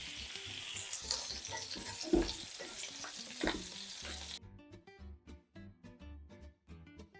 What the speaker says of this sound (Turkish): Arkalı önlü 3 dakika pişiriyorum.